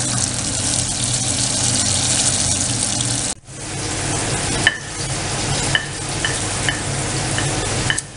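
Chicken strips in a crispy coating fry in hot oil, a loud steady sizzle with a brief dip partway through, then bubbling resumes with small pops and crackles.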